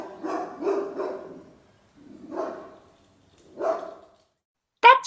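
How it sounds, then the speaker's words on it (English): Dog barking, used as a sound effect in a radio play: three spaced bursts of barking, moderately close and alone, followed by a sharp knock or bang at the end. "That's only the dog down in the barn."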